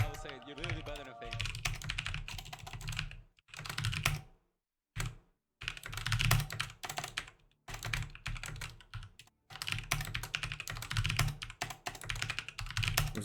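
Computer keyboard typing in rapid bursts with short pauses, close and clear, during a League of Legends streamer's chat while someone talks over much of it.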